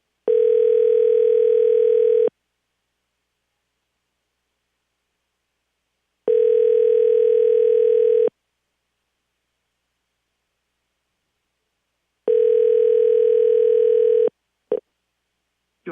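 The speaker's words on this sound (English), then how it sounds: "See if we can get this person to answer the phone." Telephone ringback tone heard while waiting for a station caller to pick up: three steady, loud tone bursts of about two seconds each, separated by roughly four-second silences, the last one cut short.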